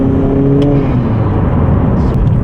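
A Honda Accord with an Axion catted downpipe drives along, its engine a loud, steady drone with tones that shift and fall slightly, heard from inside the car as it moves.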